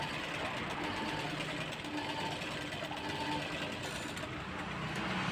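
Sewing machine stitching a double seam on a katori blouse: a steady, continuous mechanical whir that runs unbroken and stays quiet throughout.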